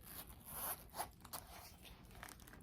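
A zipper on a gold metallic Michael Kors purse is pulled open in one continuous, close, raspy run lasting a couple of seconds.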